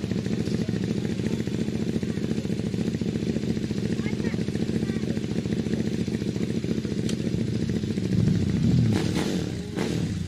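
A big KTM motorcycle engine revs hard at a hillclimb start at Prescott, a loud steady roar close by that surges near the end, with a commentator talking over it.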